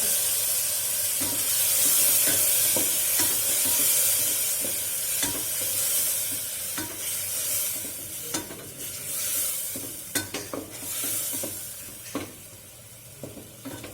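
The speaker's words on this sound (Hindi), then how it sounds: "अब ये जो अदरक लहसुन है ग्राइंड किया वो ये भी इसके अंदर डाल दिया है। प्याज थोड़े से फ्राई हो गया।" Sliced onions frying in oil with ground ginger and garlic added for a desi daal chawal, a steady hiss and sizzle broken by repeated clinks and scrapes of a spoon stirring in the pan.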